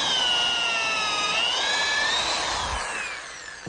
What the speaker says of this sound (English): Drill my second hole.